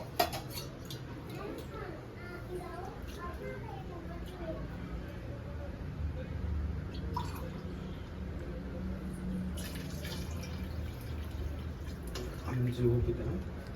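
Water pours into a pot of mutton biryani rice amid clinking pots and utensils, a steady splashing trickle close by while someone talks over it.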